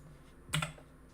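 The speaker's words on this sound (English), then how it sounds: "So we can start typing" Typing on a computer keyboard: a quick cluster of a few clicking keystrokes, then one more tap, soft and close in a quiet room.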